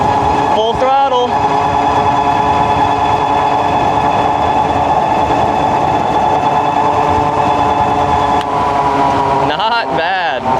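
A Ride1Up Revv 1 DRT fat-tire electric bike runs at full throttle downhill on the street, giving a loud, steady high motor whine with rushing wind noise; someone speaks briefly near the start and end.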